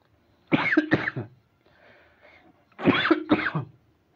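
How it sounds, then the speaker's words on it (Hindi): Two separate coughing fits, each a pair of harsh bursts, with a quiet pause between them. Close and fairly loud, with no talking. "खांसी जाने का नाम नहीं ले रही है"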